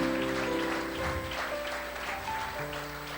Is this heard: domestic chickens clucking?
no